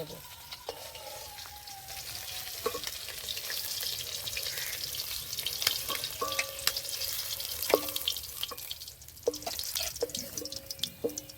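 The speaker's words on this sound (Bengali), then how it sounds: "এই মাছগুলো ভালো করে ভেজে নিয়েছি" Bhola fish frying in hot oil for a Bengali mustard-poppy fish curry, a steady soft sizzle with occasional clinks and stirring taps, close and moderate in level with no talk.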